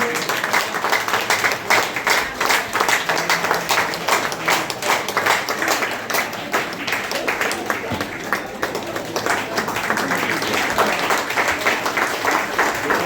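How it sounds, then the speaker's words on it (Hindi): Sustained applause from an audience at a retirement ceremony for a Northern Railway employee, steady dense clapping filling the room throughout with some voices mixed in. "जोरदार तालियां बजती रहे साथियों।"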